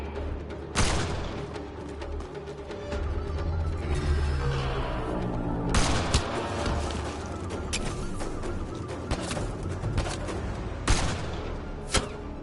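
Gunfire from a sniper in a Star Trek game rings out as a few sharp, loud cracks spaced several seconds apart over a dense backdrop of rumbling battle noise and mechanical clatter.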